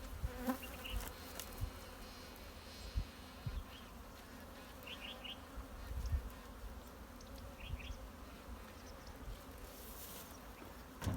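A steady, low drone of many honeybees buzzing close by around a pine-honey hive in Antalya, continuous and busy, with occasional faint knocks and rustles in the background.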